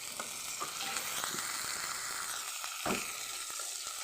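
Ginger paste sizzles and fries steadily in a hot pan, a soft continuous hiss with occasional faint stirring clicks.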